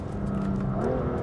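A 2020 BMW M2 CS engine accelerating hard. A loud, close engine note rises in pitch over about a second.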